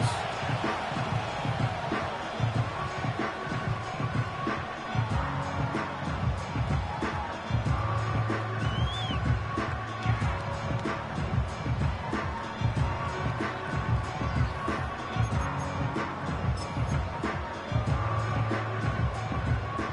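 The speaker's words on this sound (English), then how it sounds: "the crowd is definitely ready" A stadium crowd in the Madden 25 football video game keeps up a steady roar. The murmur and cheering stay broad and constant throughout, with no single standout noise.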